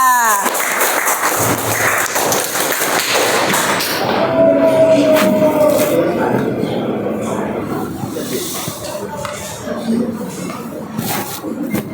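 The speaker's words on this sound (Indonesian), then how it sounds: "Berikan tepuk tangan untuk kelompok 2" A classroom audience claps for a student group about to present at an Islamic religious education teacher-training session. The dense, steady clapping runs throughout and fades slightly toward the end, with faint voices underneath.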